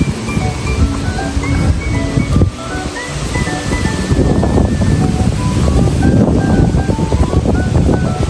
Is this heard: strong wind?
yes